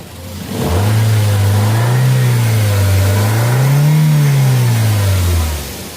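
Car engine revving after a full service with cleaned sensors, a loud, close, smooth rise and fall in pitch over several seconds, heard alone.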